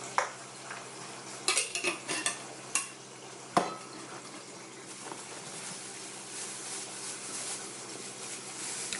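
A spoon clanks and scrapes against a pot as plantain with Cameroon pepper and crayfish is stirred, with several sharp metallic knocks early on and then a soft sizzle and hiss continuing underneath.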